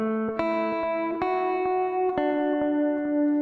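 A clean-tone electric guitar picks a single-note lead line from a song, a handful of plucked notes ringing and sustaining into one another, close and clear with no talking.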